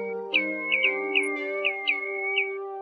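Recorded call of a plover known as Choi Choi Lông Cườm: a clear, close whistled note repeated about seven times in quick, slightly uneven succession over a steady tonal drone.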